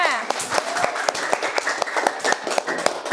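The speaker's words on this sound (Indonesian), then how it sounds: "tepuk tangan untuk kita semua" Classroom applause from students, fairly close and uneven, with distinct individual claps and taps standing out over a murmur of voices.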